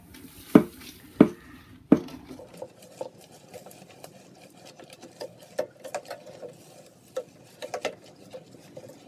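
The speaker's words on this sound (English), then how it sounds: "Adding the last kilogram of pale malt." Pale malt grain poured in for a NEIPA homebrew, opening with three sharp thuds as the last kilogram goes in, then a steady soft rattle and patter of kernels with scattered clicks, close and moderately quiet with no talking.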